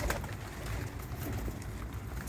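Domestic pigeons cooing softly close to their keeper, a steady low murmur of coos layered over constant background noise with no clear breaks.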